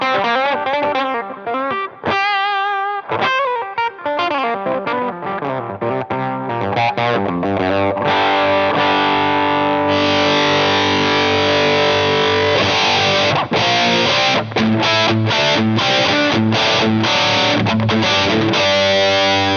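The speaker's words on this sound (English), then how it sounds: "how much distortion is added to the signal." Distorted electric guitar through a Bootlegger distortion pedal plays sustained, gritty chords and riffs, loud and continuous, with a thick saturated tone and no voices.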